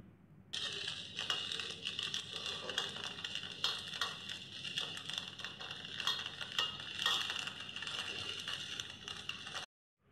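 Aape, small round dumplings, being turned over with a spoon in an appe pan, a steady soft sizzle broken by repeated light scraping and clinking strokes, ending abruptly.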